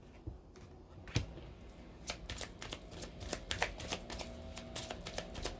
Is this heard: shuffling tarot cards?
yes